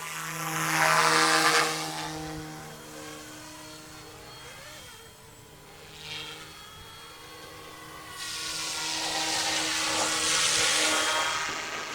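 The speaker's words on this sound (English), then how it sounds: "It needs to be a very well balanced helicopter." A Yu Xiang F07S RC Huey model helicopter flies nearby, its steady whirring rotor and motor drone swelling louder at the start and end and easing off in the middle, with no talking.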